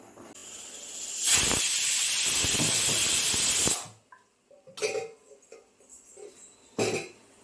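A pressure cooker cooking chicken biryani with drumsticks releases a loud, sustained whistling hiss of steam for about three seconds, then cuts off, followed by a few short, softer bursts and clatters.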